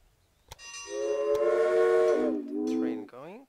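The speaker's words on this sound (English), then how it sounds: "Train going." A train in the Railway Empire video game sounds a long, loud whistle blast that holds steady, then dips in pitch before cutting off, followed by a short rising tonal squeal.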